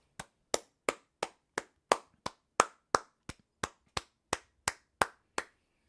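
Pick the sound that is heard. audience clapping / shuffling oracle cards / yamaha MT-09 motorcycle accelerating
audience clapping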